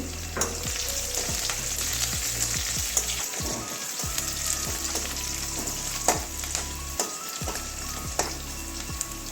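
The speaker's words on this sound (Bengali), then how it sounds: "লাল লাল হওয়া পর্যন্ত ভাজবো" Sliced onions with a pinch of salt fry in hot oil for a potato and pointed-gourd bhorta, giving a steady close sizzle broken by repeated scraping stirs of a spatula against the pan.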